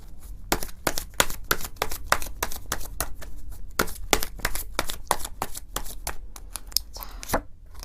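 Tarot cards being shuffled in a steady run of crisp riffling snaps and slaps, close and fairly loud, with no talking.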